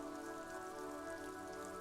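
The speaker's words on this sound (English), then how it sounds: "This rain will not let up anytime soon." Steady rain falls across a city precinct in the video game Disco Elysium, a continuous soft patter on surfaces layered over a low ambient hum, even and unbroken throughout.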